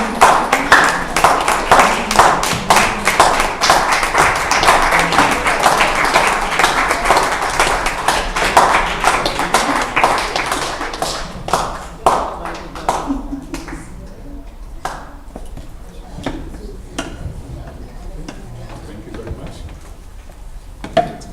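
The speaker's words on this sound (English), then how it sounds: "I know you can clap better than that." Graduation ceremony audience applauding as graduates walk in, dense crowd clapping loud and sustained for about ten seconds, then thinning to scattered claps with a voice speaking over it.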